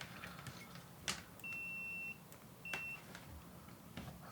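Two electronic continuity beeps from a multimeter probing a Game Boy DMG-01 handheld during repair, a longer steady tone followed by a short one, clear and close over faint background hiss and a couple of soft clicks.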